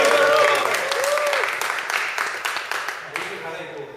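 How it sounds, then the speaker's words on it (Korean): A church congregation bursts into warm applause at a baptism service, the clapping loud at first and then tapering off while people keep talking over it. "여러분 큰 박수로 한번."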